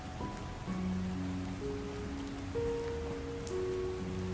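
Steady rain falls at night, a dense even hiss of drops on surfaces running throughout, with soft musical tones layered on top.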